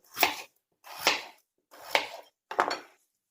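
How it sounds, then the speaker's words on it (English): A knife slices through potatoes for soup in four crisp, evenly spaced strokes. Each cut ends with a knock on the cutting board, close and distinct, with silence between them and no talk. "I'm going to cut all the potatoes"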